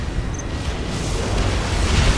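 Particle cannon strike in C&C Generals Zero Hour, a deep, sustained rumbling blast that swells steadily and stays loud and dense throughout, with no voices over it.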